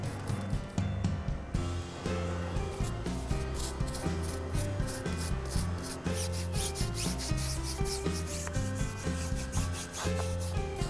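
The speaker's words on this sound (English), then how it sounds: "I like to use one of these flat brushes on all the flat surfaces in the tire." Flat brush scrubbing the flat surfaces of a car wheel rim, a continuous close rubbing and bristle scratching in quick back-and-forth strokes, with a faint musical background underneath.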